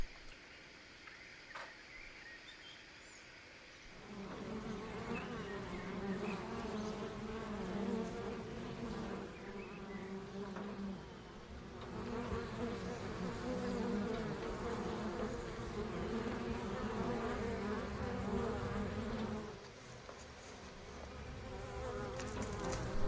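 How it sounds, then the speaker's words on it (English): Honeybees hum around a hive outdoors, a dense steady buzz that swells in after a quiet start and holds near and continuous, dipping briefly toward the end. "And yes, here are my beautiful bees."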